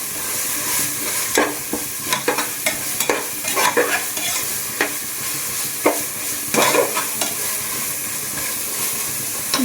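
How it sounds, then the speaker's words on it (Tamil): Mint leaves sauté in a frying pan with a loud, steady hiss of oil and steam, punctuated by irregular metallic clatters of a spatula stirring close by, with no voices. "நல்லா வதக்கலாம்."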